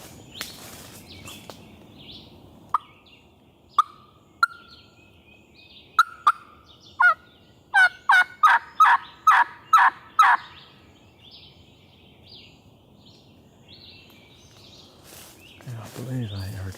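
A wild turkey gobbles and yelps in the woods, with sharp clucks followed by a rhythmic run of about eight loud yelps, fairly close, then quiet before someone speaks briefly at the end.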